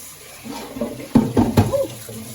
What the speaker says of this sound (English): Rinse these jokers off in cold water.